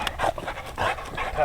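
A hunting dog pants in quick, breathy rhythmic bursts close by in the field, under a voice speaking to it.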